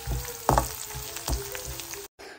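Chopped green chili, onion and ginger fry for upma in hot oil, a close, steady sizzle with a few sharper crackling bursts and a brief drop to silence near the end.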